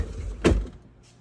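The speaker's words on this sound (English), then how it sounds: "When you open one side, you can open the drawers" A refrigerator drawer on the meat and beverage side slides open in a kitchen with a single quick rolling thunk, followed by a faint fading rattle in a quiet room.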